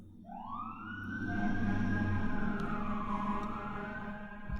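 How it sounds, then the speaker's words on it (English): A fire truck siren wails in a loud, continuous rising and falling sweep, heard clearly and alone without any talking. "It's a fire truck."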